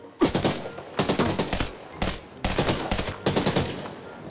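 Automatic rifle fire in the video game Arena Breakout, several rapid bursts of close, loud shots separated by short pauses, crisp and clattering throughout.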